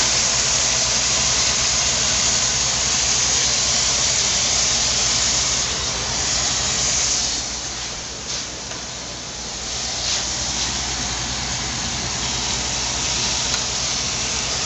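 Marinated beef poured with its marinade into a hot pot gives a steady, loud, broadband sizzle and hiss that runs throughout, easing briefly midway before continuing.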